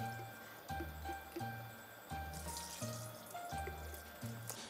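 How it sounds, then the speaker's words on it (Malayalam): Homemade Christmas wine ladled a little at a time into a strainer, giving repeated liquid pours and splashes in a steady rhythm, close and moderately loud, with faint clinks of the ladle and no talking. "ഈ തവി കൊണ്ട് തന്നെ കോരിയാലേക്ക് ഒഴിക്കുക"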